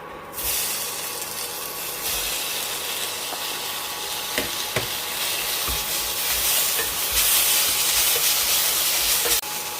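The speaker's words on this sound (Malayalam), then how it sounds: "ഇപ്പം പൊടികളെല്ലാം ഒന്ന് മൂത്ത് വന്നിട്ടുണ്ട്. അതിലേക്ക് അരിഞ്ഞ് വെച്ചിരിക്കുന്ന തക്കാളിപ്പഴം ചേർക്കാം." Chopped tomatoes hit fried spice powders in hot oil for a bottle gourd and potato masala curry, setting off a sudden loud hiss that keeps sizzling and spitting close by, with occasional stirring knocks and no talking.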